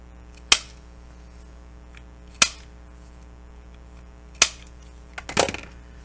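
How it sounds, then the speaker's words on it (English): A corner rounder punches paper corners, giving three sharp isolated clacks about two seconds apart, followed by a rougher, louder crunching punch, each close and clear over quiet background. "And now I can round the corners, or, you know, use a fancy corner rounder"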